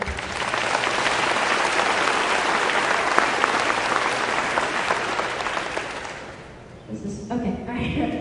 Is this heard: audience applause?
yes